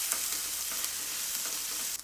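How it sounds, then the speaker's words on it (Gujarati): Ginger-chili paste sautéing in hot oil gives a steady close sizzle and crackle throughout, with a few faint spoon stirs and no voices. "આદુ મરચાંની પેસ્ટ પણ તેલ સાથે એકદમ સરસ સાંતળી લેશું"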